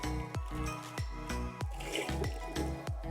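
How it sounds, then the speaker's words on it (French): Water sloshed and rinsed in a bucket, with rhythmic splashes and drips at about two per second, close by and fairly quiet, with no talk. "vous mettez un peu de l'eau, vous rincez"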